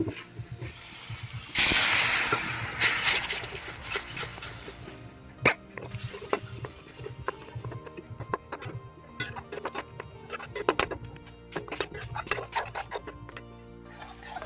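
Water is poured onto hot frying spices in an oily pan for an egg curry and bursts into a loud hiss of steam, then settles into a sputtering, crackling simmer with intermittent clatters.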